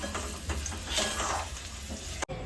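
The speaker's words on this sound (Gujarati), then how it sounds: "બસ હવે વઘારાઈ ગયું" Tempering for stuffed bitter gourd curry sizzles steadily in a pan, a dense, continuous frying hiss that stops abruptly at the end.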